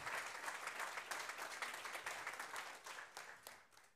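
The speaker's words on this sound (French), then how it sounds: "on peut les applaudir, évidemment, hein, nos neuf chefs" An audience at a superyacht chef competition finale applauds the chefs, a dense patter of clapping that holds steady, then tapers into a few separate claps as it fades, heard faintly at low level.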